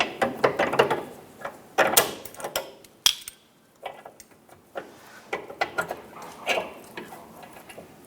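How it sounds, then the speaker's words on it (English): Ratchet wrench backing the nut off a front sway bar link on a 2010-2014 Subaru Outback, giving several quick bursts of close, crisp clicking with short pauses between them. "Remove the nut."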